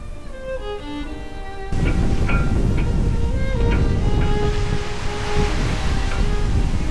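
A gale at sea in a so-called sheltered spot near reefs on a long solo sailing passage: heavy wind and breaking waves roar loud and steady and close, after a brief quieter stretch with faint tonal whistling.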